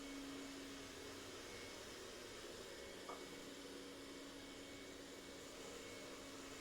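A 360 S7 robotic vacuum cleaner sweeps a floor in sweep mode without mopping, giving a faint, steady motor whir and hum that runs unbroken throughout.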